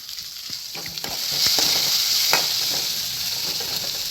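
Onion and ginger sizzle in a hot pan of oil as the base for a Kerala chickpea curry, with curry leaves going in too. A steady, close hiss of frying runs throughout, broken by a few light clicks and scrapes of stirring.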